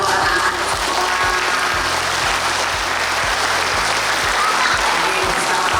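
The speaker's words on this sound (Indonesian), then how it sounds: "Tepuk tangan untuk anak-anak sekolah" Dense, loud applause for school children from a gathering in Semarang rolls on without a break, with a steady low hum and faint murmur of people underneath.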